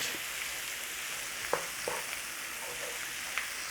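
Drained, rinsed chickpeas going into simmering coconut milk in a pan for a chickpea and cauliflower curry, giving a steady soft sizzle with a few faint clicks of stirring.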